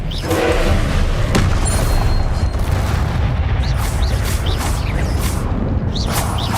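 Confringo blast spells fired in Hogwarts Legacy, a loud, continuous barrage of booming explosive impacts with sharp cracks and rumbling low end, layered over dense battle noise throughout.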